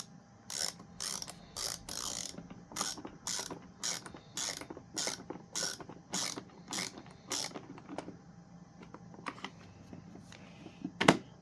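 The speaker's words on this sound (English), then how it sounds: "Forgot this ratcheting screwdriver doesn't have the length" Ratcheting screwdriver clicking in quick bursts while driving a screw into a Bissell PowerTrak 6592 vacuum, with a steady series of close, sharp ratchet runs separated by short pauses.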